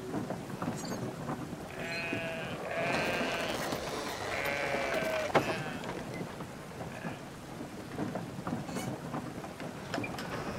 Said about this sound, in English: Stop petting your sheep.